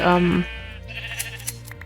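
A single harmonic sheep bleat from Minecraft sounds clearly at the start, followed by quieter background game sounds and soft clicks.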